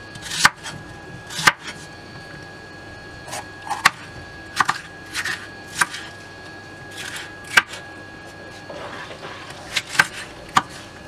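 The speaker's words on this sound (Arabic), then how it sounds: "عندنا قرن فلفل الوان احمر وبصلة متوسطة، هنقطعهم قطع متوسطة او باي شكل" A knife chops a red bell pepper and a medium onion into medium pieces with a dozen or so sharp, close board strikes at an uneven pace, mingled with softer handling rustles.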